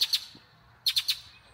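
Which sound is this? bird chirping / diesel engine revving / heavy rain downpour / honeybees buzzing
bird chirping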